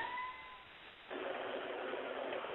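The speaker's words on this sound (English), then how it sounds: "there's cats outside fighting" Cats fighting outdoors, heard faintly at a distance: a drawn-out yowl gives way to a harsher, noisier snarling screech that carries through to the end.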